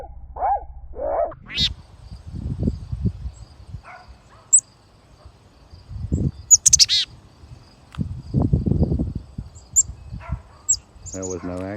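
Chickadees chirp in short, scattered high calls around a backyard bird feeder, close and intermittent, while a person talks softly between the calls.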